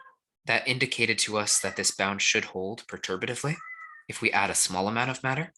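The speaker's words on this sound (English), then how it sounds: "Sorry for my noisy cat at the end of it." A cat meows briefly indoors during a spoken seminar on theoretical physics, one short call heard under a man's continuous lecture speech.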